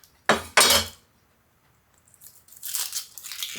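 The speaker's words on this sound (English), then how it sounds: "I'm just going to cut those in quarters." A knife cuts onions into quarters on a board with two quick, sharp chops close together, then a pause, then lighter clattering and handling sounds as the pieces are moved.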